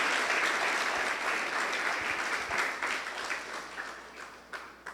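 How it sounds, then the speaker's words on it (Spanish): Church congregation applauding during a worship service, loud dense clapping that gradually thins out and fades, ending in a few scattered individual claps. "Puede aplaudir delante de su presencia."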